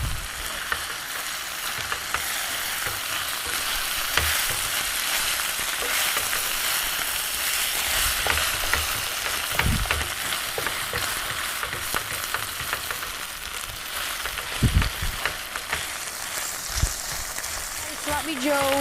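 Sloppy joe mix stirred in a bowl, a steady wet, sizzly churning that runs throughout with occasional louder scrapes, up close.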